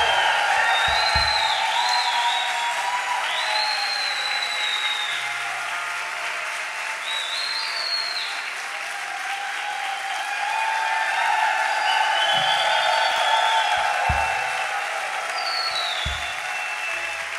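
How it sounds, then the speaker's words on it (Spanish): A church congregation applauds during a Sunday Mass homily in a steady, moderately loud wash of clapping, with whistles or whoops rising above it and occasional low thumps. "Y ese aplauso, ojalá ese grito de victoria."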